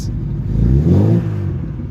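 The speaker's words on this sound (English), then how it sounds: "See, I'm revving the car." A 1984 Opel Kadett 1.6 engine revs up loudly, rising to a roaring peak and then easing back to a lower rumble, close by and with no talking.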